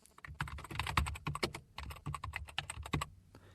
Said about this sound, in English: So when I type now